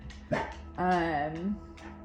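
Dogs in a neighbour's yard bark and whine, with a sharp bark followed by a long drawn-out whimpering yelp and a few shorter yips, fairly close and loud.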